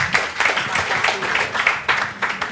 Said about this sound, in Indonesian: Sekali lagi tepuk tangan biar tambah semangat